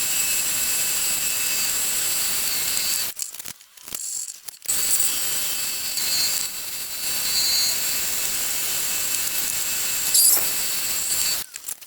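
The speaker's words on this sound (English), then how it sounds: "Now I'm going to drill it and" Drilling a workpiece held in an imperial metalworking lathe, a steady loud machine whine and hum with a high tone running throughout, briefly dropping out a few times as the feed pauses.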